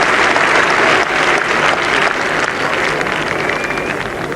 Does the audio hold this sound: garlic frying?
no